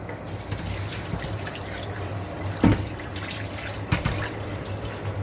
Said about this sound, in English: I'm going to add water into the pan here.